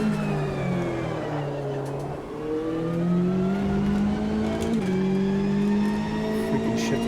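Race car engine at full throttle in Assetto Corsa Competizione, a steady high-pitched roar rising in pitch with a brief dip, loud and continuous throughout, with no braking.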